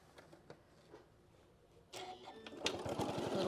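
A serger sewing machine stitching fabric for a shoulder wrap, starting after quiet handling with a close, rapid mechanical whirring that keeps running to the end.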